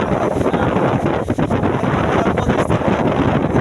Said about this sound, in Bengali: কি পরিমাণ বৃষ্টি আর বাতাস লাগছে